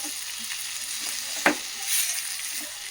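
Bun dosa batter or chutney ingredients sizzling in a hot pan with a pinch of salt, a steady broadband hiss throughout with one brief sharp clink near the middle; no one speaks.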